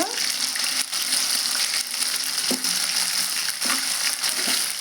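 Coriander with ginger-garlic paste hitting well-heated oil for an Andhra chicken curry with tender tamarind leaves: a continuous loud sizzle and crackle, with occasional stirring scrapes.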